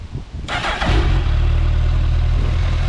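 A 1.3 litre motorcycle with stock exhausts cranks briefly and fires up, then settles straight into a steady, deep, fairly quiet idle, close by and alone.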